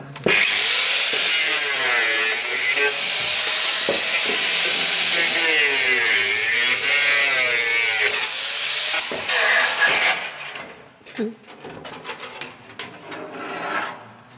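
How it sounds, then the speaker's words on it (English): An angle grinder cuts through the rusty wing of an E36 BMW, a loud continuous whining grind with wavering pitch for about ten seconds, then stopping into clatter and handling noises. "Grinder's coming out."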